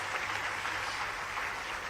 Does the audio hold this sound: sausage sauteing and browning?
no